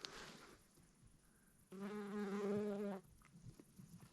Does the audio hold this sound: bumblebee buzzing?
yes